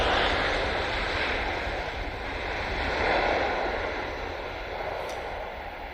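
A Boeing 747 arriving with its landing gear down, heard as a steady, broad jet roar that swells slightly around the middle and stays continuous throughout, with a wind-like rush and no talking.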